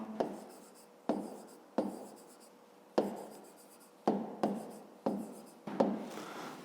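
A pen or pencil writes on paper in short separate bursts of strokes, close and fairly quiet, working a fifth-grade math exercise with no voices.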